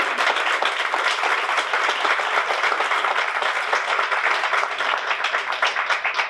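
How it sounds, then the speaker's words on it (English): Audience at the State of Macomb Township 2026 event applauds its sponsors, a steady, dense wash of many hands clapping throughout, fairly loud and even, with no voices over it. "If we could all give them a round of applause."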